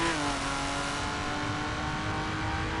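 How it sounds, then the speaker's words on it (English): A 2011 BMW Z4 Street Edition rated at 412 hp roars loudly and steadily at close range. No one talks over the engine. "It's amazing how loud this car is."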